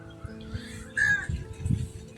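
A single crow caws once in the middle, set against low background hum and a few soft knocks.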